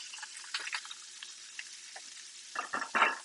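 Steak sears in a hot pan, a continuous sizzle that carries through the clip, with a few louder spitting bursts near the end and no talking over it.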